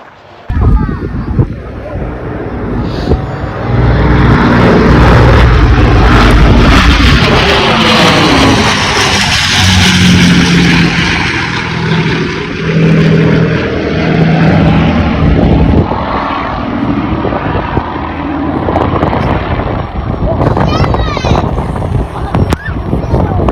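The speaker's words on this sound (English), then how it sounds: "make sure you turn it up and listen to those beautiful Merlin engines" Loud, steady droning of Rolls-Royce Merlin piston aircraft engines running throughout, with wind buffeting the microphone and some background talk.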